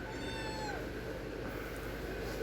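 A cat meows loudly and close by in a drawn-out call that bends downward, with steady background noise behind it and no talking.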